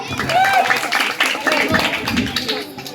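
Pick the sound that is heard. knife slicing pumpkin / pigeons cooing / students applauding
students applauding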